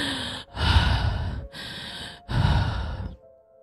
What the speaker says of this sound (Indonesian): Terdengar suara nafas terengah-engah